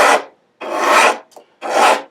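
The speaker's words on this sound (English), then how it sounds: "you can hear the file go from that sort of crunching grab to a whisper once you've arrived" A file levelling the worn outer frets on the bass and treble sides of a 5-string bass neck, in three long raspy strokes with short pauses between them and a brief scrape in the middle, close and loud.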